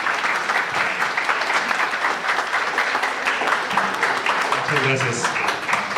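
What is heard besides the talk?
loud audience applause for a speaker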